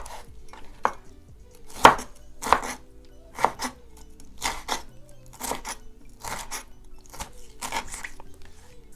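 A knife chops through cooked bamboo shoots for a Lao bamboo soup, giving about a dozen sharp, distinct knocks on a cutting board at an irregular pace, close and clear with no talking.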